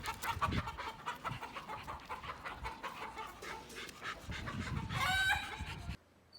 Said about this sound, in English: We got chickens she runs into.